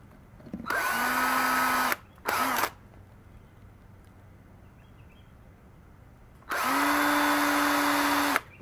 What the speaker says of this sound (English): And we're going to drill these out.